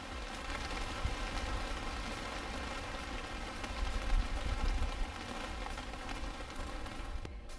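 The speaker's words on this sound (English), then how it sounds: "It still hasn't stopped raining" Steady rain falls in Panama in the dry season, a dense continuous patter of drops on surfaces around a catamaran, fairly even in loudness with occasional heavier splashes and no voices.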